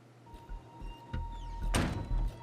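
A door opening in a scene from the TV show The Walking Dead: a muffled thunk with a sliding, scraping rush, then a heavier thud near the end, with a steady hum and faint background sounds underneath.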